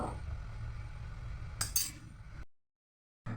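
A metal spoon stirs a little milk into a mashed chicken dish in a bowl for feeding a baby, giving soft clinks and scraping at close range, one brighter clink near the middle, then a stretch of silence.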